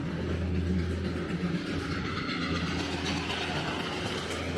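A train rumbles past beside a hillside temple in Darjeeling, a steady low drone of engine and rolling wagons at moderate distance, continuous through the short stretch with no talk.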